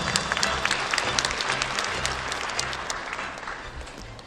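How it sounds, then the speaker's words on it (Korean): An audience at a provincial March 1st Independence Movement Day commemoration ceremony breaks into sustained applause, loud dense clapping that fades slightly toward the end, with no talk. "한번 감사의 박수 부탁드립니다."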